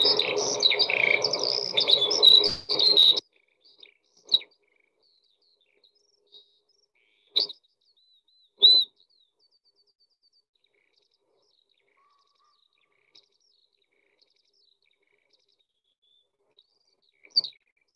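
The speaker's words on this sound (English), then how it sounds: "But here we go with the Skylark song." A skylark gives a dense, high, warbling run of chirps and trills for about three seconds. After that come only scattered brief high chirps separated by long silences.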